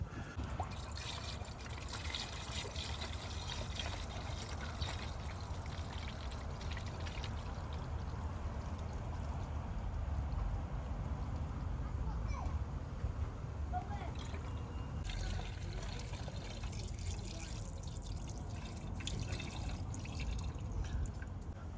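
Coolant water is poured steadily into the cooling system of a Ford Transit 1.8 TDCi during a thermostat replacement, a continuous close trickle and splash running for about twenty seconds with faint speech in the background.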